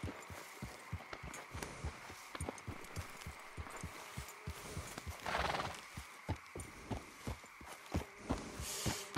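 In the video game Red Dead Redemption 2, a horse's hooves clip-clop steadily throughout, with a neigh partway through, heard close and at moderate volume.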